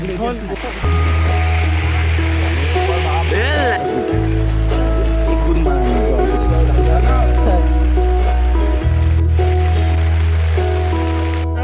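Rain patters continuously in the background as several people talk nearby under shelter.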